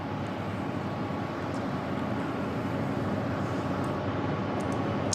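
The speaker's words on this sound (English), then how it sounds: "طائرة تيجاس الآن تستعد للإقلاع لقيام بعروضها الجوية الآن." A HAL Tejas fighter jet holds short of the runway at the 2016 Bahrain Air Show, readying for takeoff. Its engine gives a steady, loud broadband roar that stays even throughout, with no voices.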